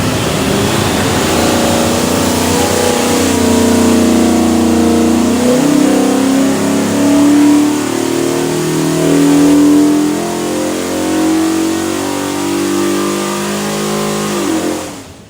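A 347 cubic inch Ford stroker V8 built for a '67 Mustang, running on an engine dyno: loud, close, sustained revving that climbs and holds at high rpm before cutting off at the end.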